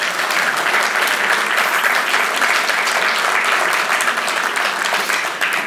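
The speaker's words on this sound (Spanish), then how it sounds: "Un aplauso para ustedes." A crowd gives loud, dense, continuous applause to museum staff at a tribute ceremony, holding steady for several seconds.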